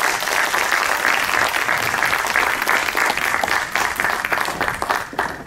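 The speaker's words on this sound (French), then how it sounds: "Merci beaucoup au groupe de Rose Romain, vous pouvez applaudir." A crowd at a festival clothing competition applauds a performing dance group, loud and continuous clapping from many people filling the space, steady for several seconds and tapering slightly at the end.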